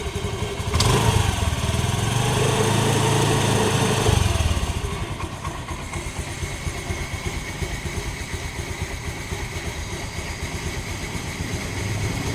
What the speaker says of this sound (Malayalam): നമുക്ക് ഈ വാഹനം ഒന്ന് സ്റ്റാർട്ടാക്കി നോക്കാം നിങ്ങൾക്ക് ആ സൗണ്ട് കേൾക്കുമ്പോൾ